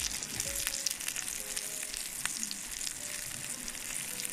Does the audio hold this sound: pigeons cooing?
no